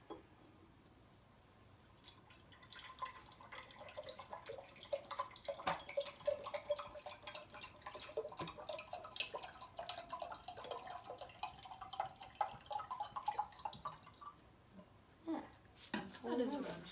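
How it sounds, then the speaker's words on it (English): Hydrogen peroxide is poured into a jar, producing a faint, trickling splash of liquid that runs under a person talking. "Now we are going to add our hydrogen peroxide to our jar."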